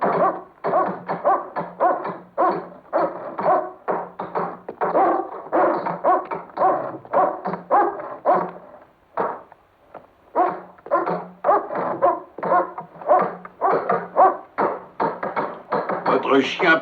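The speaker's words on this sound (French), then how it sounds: "Votre chien paraît de plus en plus affamé, Major Rogers." A hungry dog, Major Rogers' dog in the 1972 film Contes d'outre-tombe, barks and whimpers in rapid repeated bursts, close and loud, with a short pause midway before the barking resumes.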